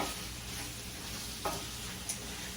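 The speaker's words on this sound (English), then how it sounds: "I'm gonna saute this up for a few" Spiralized zucchini noodles sauté in a pan with a soft, steady sizzle and a couple of brief utensil scrapes, close and fairly quiet, with no voices.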